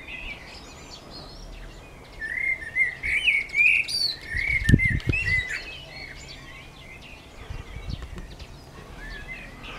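A pigeon-like bird perched on a post in Germany sings a run of bright chirping notes in the middle, moderately close, over steady outdoor background noise, with a few low thumps.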